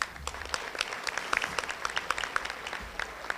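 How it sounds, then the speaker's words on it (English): A modest round of applause at a live morning radio broadcast event, distinct individual claps from a smallish group scattered across the room, fairly faint and sustained for a few seconds without speech. "Give her a round of applause"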